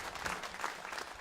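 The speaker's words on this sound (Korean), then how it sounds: "우리 박수로 우리 축복합니다" A church congregation at a Christmas service applauds its choir with dense, steady clapping that continues for the whole short stretch.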